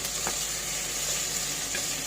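A steady hiss of okra frying in a pan with a couple of faint stirring taps, brief and even.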